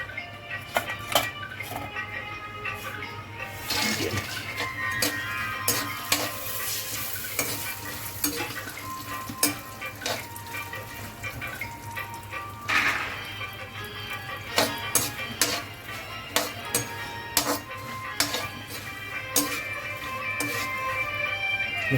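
Walnuts stirred and dry-roasted in a pan for a dry-fruit protein ladoo, a steady close-up scraping and rattling with a faint sizzle, continuous and busy throughout with frequent sharp clicks of spatula on metal.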